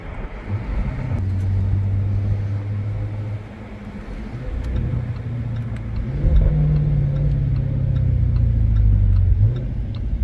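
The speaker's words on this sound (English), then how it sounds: "Hitting those paddle shifters to downshift. Sounds really, really nice." A 2019 Jaguar F-Type SVR engine drones loud and close from inside the cabin, then briefly dips before the revs climb and settle across several paddle-shifted gear changes, with faint ticking throughout.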